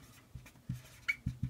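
A pen scratches out a few short strokes on paper, several quick, faint, close marks in an uneven rhythm, with no talking.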